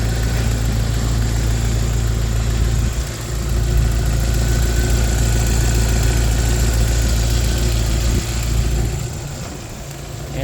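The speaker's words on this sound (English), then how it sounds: "There's something about an old metal engine cooling fan." A 1998 Jeep TJ Wrangler with a rough country lift and an old metal engine cooling fan idles steadily up close, a continuous low rumble with a constant fan whir.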